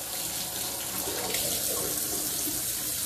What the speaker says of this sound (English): Gonna get some hot water rolling here.